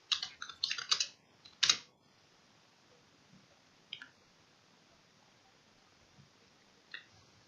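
A computer keyboard is typed on in a quick burst of clicks, then a few isolated, faint keystrokes follow in a quiet room.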